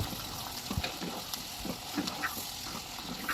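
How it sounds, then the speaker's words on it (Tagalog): Squid and onion sautéing in a pan for adobong pusit, a faint, soft sizzle broken by light stirring clicks and scrapes at an uneven rhythm. "ato na siyang gisahon pag human ana, ato dayong ilunod ang atoang pusit."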